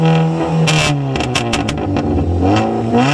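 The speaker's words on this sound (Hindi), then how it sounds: "स्ट्रेट पाइप है, उसकी आवाज सुनना जरा आप।" A modified Maruti Swift running on petrol with a straight-pipe exhaust revs loudly up close, its raspy engine note climbing and falling over a few quick blips, with no talking.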